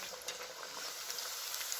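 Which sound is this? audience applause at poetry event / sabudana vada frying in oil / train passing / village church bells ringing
sabudana vada frying in oil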